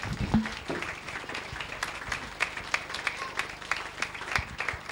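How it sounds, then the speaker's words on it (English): A grasstrack crowd applauds race winner Chris Harris at the 2003 International Grand Slam, scattered and uneven clapping with sharp individual claps standing out over a thinner background of crowd noise. "Keep the applause going."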